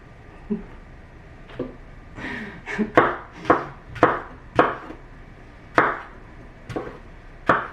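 A knife cuts peaches on a cutting board, sharp chopping thuds landing about every half second, close and distinct against a quiet background, with no talking.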